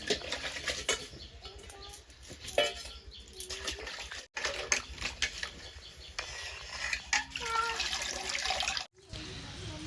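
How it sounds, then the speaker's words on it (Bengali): Leafy gunuri saag greens being rinsed under running tap water in a home kitchen, with a steady wash of water, intermittent splashing and light clinks of utensils, and occasional faint voices in the background. "শাকটা এবার আমি ধুয়ে নিই।"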